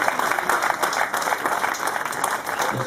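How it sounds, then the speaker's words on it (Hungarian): An audience at a family day gives a short round of brisk, dense clapping that stays steady throughout. "És akkor tapsoljunk."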